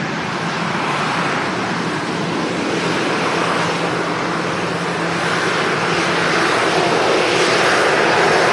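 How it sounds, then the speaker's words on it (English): A Jet2 airliner at Manchester Airport roars steadily throughout, a loud, broad jet engine rumble that swells slightly toward the end, with no talk over it. "There's Jet2 Alpha Bravo"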